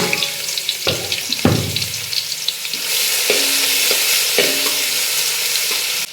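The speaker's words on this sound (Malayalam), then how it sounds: "കുനുകുന അരിഞ്ഞ സവാള ഒറ്റ സവാള മാത്രം എടുത്തിട്ടു ഇട്ട് കൊടുക്കുക വഴറ്റിയെടുക്കുക" One finely chopped onion sautéing in a pan: sharp stirring clacks at the start, then a loud, steady sizzle that fills the rest, with a few more spoon knocks and no talking.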